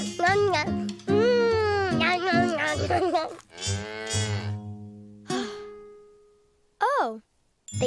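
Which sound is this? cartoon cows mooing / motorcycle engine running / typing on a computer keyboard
cartoon cows mooing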